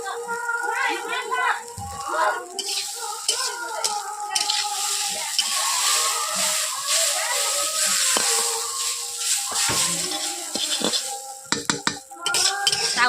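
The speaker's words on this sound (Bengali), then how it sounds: "আমি চাউমিনগুলোকে ভেজে নিচ্ছি" Chowmein noodles frying in a pan with a little salt, stirred with a utensil: repeated metallic scrapes and clinks over a soft sizzle, with speech heard throughout.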